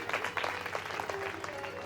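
Audience applause at a Hindu religious discourse, Shrimad Bhagavat Katha, a dense crackle of many hands clapping together steadily for a couple of seconds, with faint voices mixed in.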